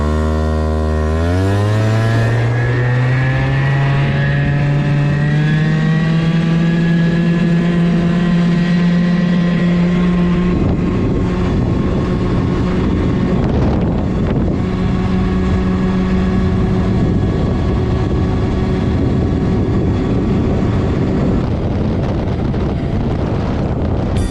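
A 50cc scooter with a power boost winds up hard on a top speed run, its small engine whining as it climbs in pitch, then holding a steady loud drone under heavy wind buffeting throughout.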